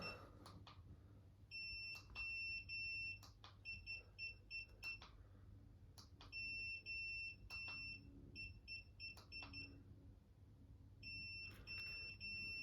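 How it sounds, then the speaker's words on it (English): Segway Ninebot Max G2 electric scooter sounding a series of loud, high-pitched electronic beeps in repeated bursts and long tones over a low background hum, close by. "Okay, so stop the beeping now."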